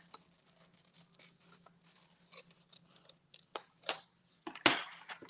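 Scissors trim a gelli-printed paper cutout in a run of quiet, uneven snips and rustles, with a few louder cuts and paper handling near the end.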